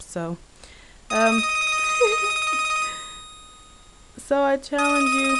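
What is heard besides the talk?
mobile phone ringing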